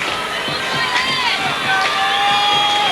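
A crowd cheers and shouts at a 2004 Vineland versus Millville homecoming high school football game. The dense, lively roar is steady, with high whistles and yells rising above it.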